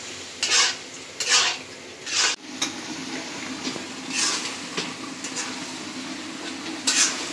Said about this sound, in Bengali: শাকটা তো কষায় নিয়েছি